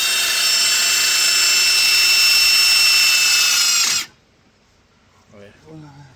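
A power drill runs loud and steady for about four seconds, driving a self-tapping screw to mount rim lights on the back of a Tahoe wheel, then cuts off abruptly, followed by faint voices.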